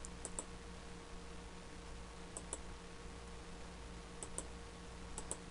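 A computer mouse clicking while working in Illustrator, a few quick faint clicks in pairs scattered across a quiet room with steady low hum.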